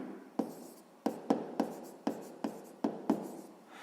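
Chalk or marker strokes on a classroom board during a sixth-grade maths lesson, a run of about nine sharp taps and scratches in an uneven rhythm, close and fairly quiet, with no talking.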